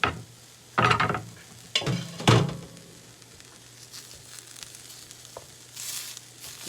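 Sausage, mushrooms, onions and green peppers cook in a pan, with a few brief bursts of stirring and scraping over a faint, steady background sizzle, then quieter stretches.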